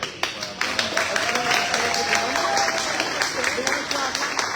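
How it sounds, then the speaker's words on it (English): An audience at a county town hall meeting applauds, with steady clapping that carries through and a voice talking over it. "I want you all to give a good round of applause"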